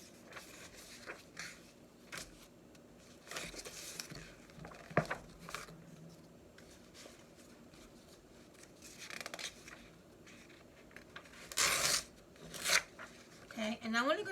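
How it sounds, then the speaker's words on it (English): Scissors cut out a paper image for a bullet journal, giving soft intermittent snips and paper rustles, with a few sharper crisp cuts near the end, interspersed with a person talking. "I wanted to cut this image right here"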